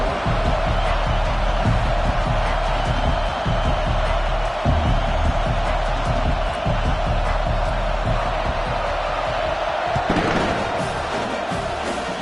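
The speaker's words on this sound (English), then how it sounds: "This crowd bringing an ear-splitting welcome to their visitors." Loud, dense roar of a college football stadium crowd cheering as the Sooners prepare to kick off, a continuous wall of noise with no pauses, swelling slightly near the end.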